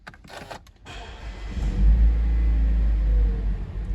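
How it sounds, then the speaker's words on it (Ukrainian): A Mazda CX-5 (2012) engine cranks via push-button start and catches after a brief quiet moment, settling into a steady low rumble close by. "запуск двигуна з кнопки."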